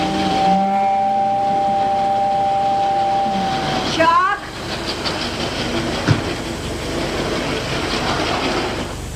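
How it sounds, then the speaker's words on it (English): A toy electric train from a 1959 Gilbert set runs along its track with a steady rattling rumble, a sustained whistle-like tone for the first few seconds, then a brief sweeping squeal and continued clatter. "You're supposed to be running the vacuum sweeper, not Tammy's train."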